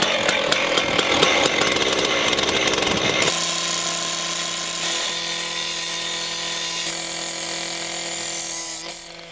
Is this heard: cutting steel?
yes